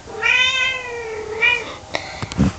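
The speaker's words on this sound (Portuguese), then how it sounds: "Vou mostrar os meus gatos todos." Pet cats meowing indoors: a long drawn-out meow, then a shorter second one, close and clear, followed by a few soft knocks and rustles.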